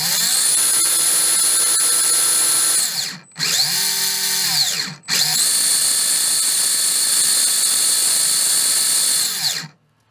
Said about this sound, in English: let's do a test and see how this thing how well it works and how it spins